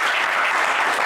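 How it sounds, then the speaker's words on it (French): Studio audience applauding on a French TV game show, a steady, dense burst of clapping filling the whole moment without voices. "Eh bien, c'est un sans faute pour Olivier, ça s'applaudit bien fort."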